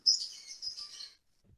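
A single short burst of bird chirping, faint and high-pitched, heard alone against near silence.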